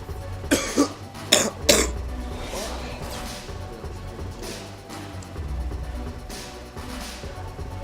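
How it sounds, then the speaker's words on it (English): Three sharp coughs in quick succession near the start, followed by low background noise and faint murmuring. "Sorry about my coughing"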